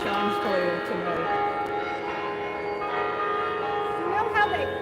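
Chimes ring out at an outdoor sunset gathering, sustained bell tones layered and overlapping, fairly distant, with voices chatting faintly underneath.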